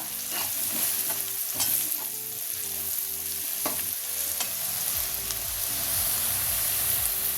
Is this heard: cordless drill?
no